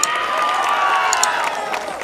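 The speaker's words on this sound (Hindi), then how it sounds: "आप सबको आपके तालियों में भी थोड़ा जोर होना चाहिए" A college music evening audience roaring, with cheering and applause blending into a steady, dense wash of crowd noise that holds evenly throughout.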